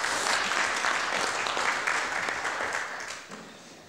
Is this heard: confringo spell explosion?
no